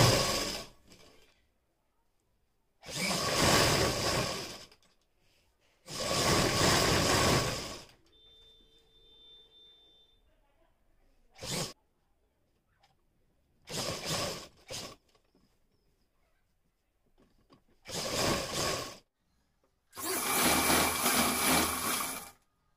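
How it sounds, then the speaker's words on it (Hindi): Sewing machine stitching the side seams of a kurti, running in several loud, close bursts of steady whirring stitching lasting a few seconds each, separated by quiet pauses and faint handling sounds. "यहाँ पर सिलाई लगा लेंगे अपने चारों पल्लों पर"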